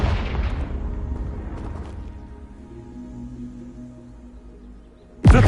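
A Confringo spell explosion in Hogwarts Legacy: a loud booming blast at the start that decays into a low lingering rumble, followed by a sharp new burst right at the end.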